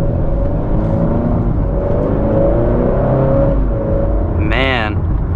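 A tuned 2021 Honda Accord 2.0T pulls hard from inside the cabin, engine note climbing through gear changes, with people talking over the steady drone and a brief sharp sound near the end.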